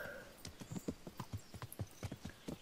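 Horse hooves clip-clopping at a steady ridden gait in the medieval game Kingdom Come: Deliverance, a regular rhythm of close, distinct thuds with a faint whinny-like tone early on.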